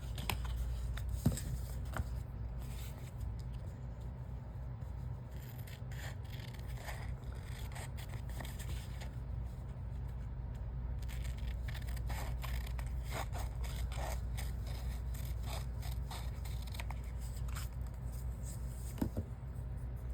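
Scissors trim a stencilled paper piece in soft, close snips and rustling paper scrapes, scattered irregularly over a low, quiet room hum.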